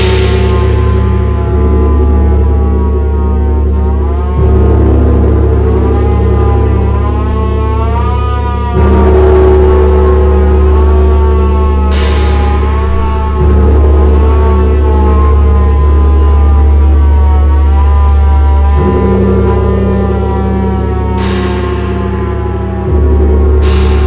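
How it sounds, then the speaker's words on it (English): A hand-held air raid siren played live in a Japanese avant-garde concert, its long wailing tones rising and falling in sustained sweeps over a steady low drone, loud and continuous with occasional sharp bursts from accompanying percussion. "Air raid siren in his hand."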